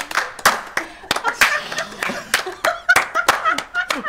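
People clapping their hands together in a rhythmic group pattern during a lively game session, sharp claps in quick clusters mixed with chuckles and chatter.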